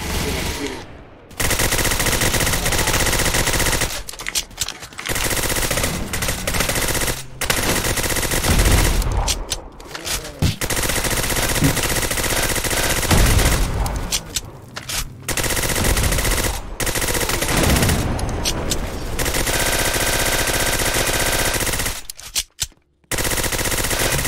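Rapid automatic gunfire from a weapon in the Roblox game Zombie Uprising rattles in long, loud bursts through most of the stretch, broken by a few short pauses.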